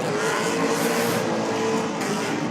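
A race car in a clay track event sends out a loud, continuous high-RPM engine roar, close and unbroken, with no voices over it.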